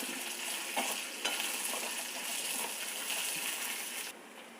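Lentils and about three dried chillies sauté in a pan with a soft, steady sizzle and a few light clinks from stirring, fairly quiet throughout.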